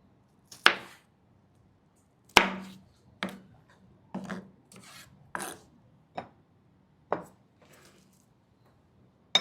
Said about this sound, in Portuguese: Fazemos também tirinhas bem fininhas do pimentão.